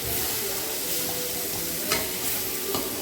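Biryani ingredients sauté in a pan, a dense steady sizzle with a few scraping taps from stirring.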